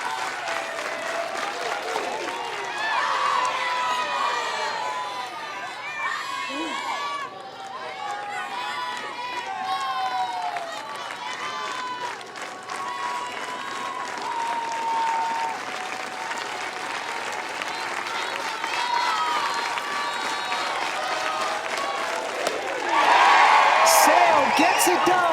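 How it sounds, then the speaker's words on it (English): Softball fans at an Oklahoma regional game stand and clap in rhythm, a crowd's clapping and cheering carrying on throughout under a commentator's voice, swelling louder at the very end. "Most of the fans standing and clapping in rhythm."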